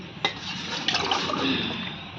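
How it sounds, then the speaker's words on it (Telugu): Water pours steadily from a glass into a pan for pineapple fruit kesari, a continuous close splashing rush with a couple of small knocks. "చూడండి 4 గ్లాసులు వాటర్ వేసుకున్నాం."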